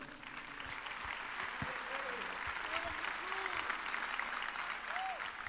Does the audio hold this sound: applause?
yes